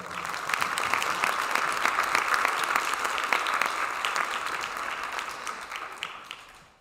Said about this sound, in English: So we'll give them a round of applause one more time on that one.